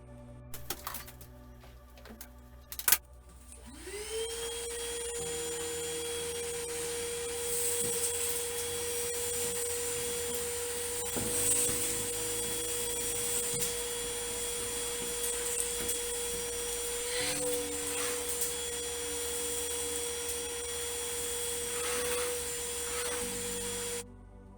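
An Ozito 18 volt shop vacuum starts with a rising whine and then runs steadily, sucking up dust, with occasional rattles and clicks as debris passes through, and no talking.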